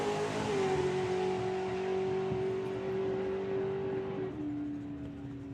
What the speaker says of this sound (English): It will be the juniors up first, with junior dragster followed by junior drag bike, and then Pro ET.